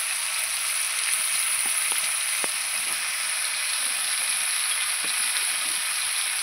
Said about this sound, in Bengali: এবার দিয়ে নাড়াচাড়া করব।